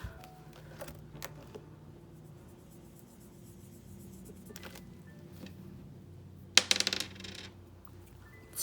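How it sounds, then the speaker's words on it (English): A big die is rolled onto a hard surface during a cash envelope savings session, producing a short burst of clattering bounces late in the clip after quiet handling noises, close and fairly crisp with no speech. "I'm going to roll this dice 5 times."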